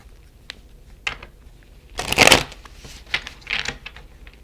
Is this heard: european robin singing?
no